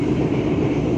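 KA Bogowonto economy premium passenger train pulling out of Purwokerto station in Banyumas, heard as a continuous loud rolling rumble of wheels and carriages with no pauses.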